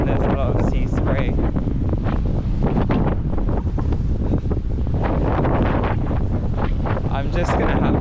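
Strong coastal wind roars continuously across the microphone, loud and buffeting, with surf-like rushing underneath throughout, on a seaside walk with sea spray.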